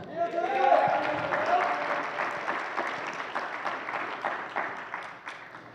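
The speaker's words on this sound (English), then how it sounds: "Denzel De Laura, give him a round of applause" Congregation at a Sunday church service claps for a volunteer, a moderately loud, rhythmic patter of hands that begins just as a brief voice fades and carries on steadily.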